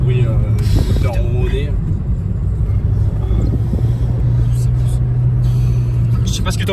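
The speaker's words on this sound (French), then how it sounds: "On entend le bruit du moteur ronronner." A gendarmerie Renault Mégane 3 RS with about 400 hp hums and rumbles steadily from inside the cabin, a low constant engine drone under loud conversation.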